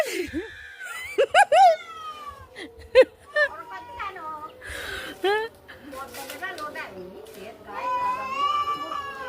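Two cats let out several rising, wavering meows and yowls, close and fairly loud in short bursts, while people talk throughout.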